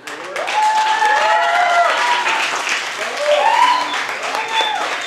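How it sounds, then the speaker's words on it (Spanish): An audience at a university research forum in Celaya, Guanajuato, gives steady, sustained applause, loud and close throughout, with a voice speaking over it. "Un aplauso."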